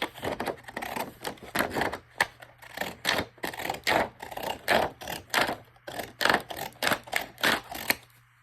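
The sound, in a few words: cutting cardstock up the middle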